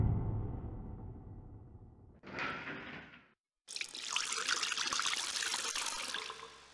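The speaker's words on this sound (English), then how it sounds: "If I go to this sink here and turn on the hot water tap" Hot water running from a sink tap in the video game Dark Fall: The Journal, a steady rushing stream that pauses briefly, splashes, cuts out, then gushes back louder and fuller, close and alone.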